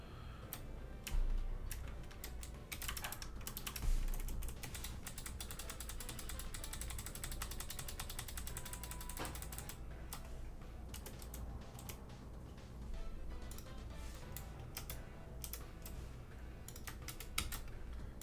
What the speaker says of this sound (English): I'm tired of typing this out